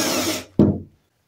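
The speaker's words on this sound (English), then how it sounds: "The first drill is just a centering drill to start the hole," A centering drill starts a hole in a sailboat daggerboard with a short, close power-tool whir that cuts off, followed by one sharp, brief burst that quickly fades into silence.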